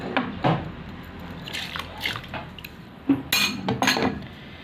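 A spoon stirring fava beans and rice in a cooking pot: a few scattered metallic clinks and scrapes against the pot, close and moderately loud, with brief wet shuffling between the strokes.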